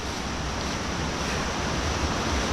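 A river at Kennall Vale rushing with force, a dense, continuous roar of moving water, loud and close, with no voices.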